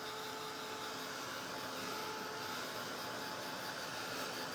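A hair dryer blows steadily close by, drying wet paint on a Santa sleigh, its constant loud whooshing hiss running unbroken and alone throughout.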